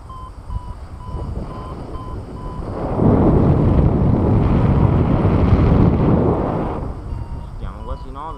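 Wind rushing past during a paragliding flight, a broad roaring buffet that swells loud for several seconds and then eases, with faint steady tones and voices heard around it.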